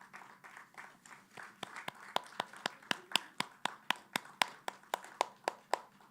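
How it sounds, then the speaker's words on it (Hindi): Clapping at a book launch starts soft and irregular, then settles into a steady, evenly spaced rhythm of crisp claps that grows slightly louder. It sounds like a small group in a room, with no voices. "हम सब तालियों की गड़गड़ाहट के साथ इसका स्वागत करेंगे"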